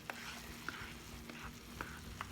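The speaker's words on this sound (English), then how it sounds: "stir it up until it gets real bubbly looking. Just like caramel." A praline caramel topping bubbles steadily in a pan while a spoon scrapes through it, with a few sharp clicks of utensil against the pan over a soft, continuous sizzle.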